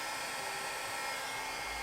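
A hair dryer blows steadily at close range over acrylic paint, giving a continuous, even whirring rush with no breaks.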